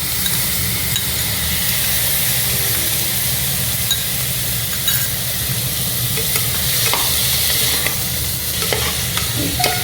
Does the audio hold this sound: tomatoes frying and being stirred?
yes